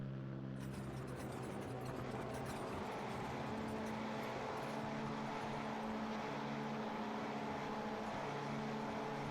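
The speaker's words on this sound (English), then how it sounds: "Cars are lined up, engines ready to rev" Several race car engines in a rallycross video game hold a steady, loud, droning rev at the start line, a dense continuous roar with layered engine tones and no pauses.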